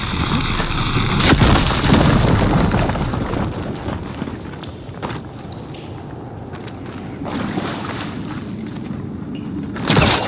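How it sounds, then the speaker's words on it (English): A fire gleam blown up in the game Horizon Forbidden West, a loud booming blast opening the clip, then a rumbling, crackling tail of debris and game ambience with further thuds that fade over several seconds. "Should be able to blow up that fire gleam."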